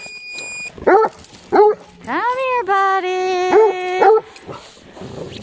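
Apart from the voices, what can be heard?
dog barking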